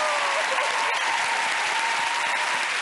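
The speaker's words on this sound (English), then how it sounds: "Give them a massive round of applause, the Dickinson family." A television game-show studio audience claps loudly and continuously, a bright, even roar of many hands that holds steady throughout the short burst.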